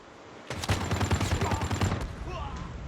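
Automatic gunfire in Call of Duty Mobile rattles out in one rapid, loud burst of about a second and a half, followed by a few faint trailing pops and quieter game sounds.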